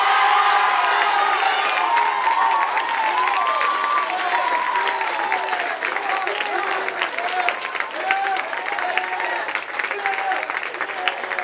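An audience at a school spring band concert bursts into sustained applause and cheering, a dense wash of clapping with scattered whoops that stays loud and steady throughout.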